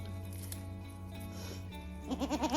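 Goats bleat in a grassy field, a short run of repeated bleats rising near the end over a steady low background hum.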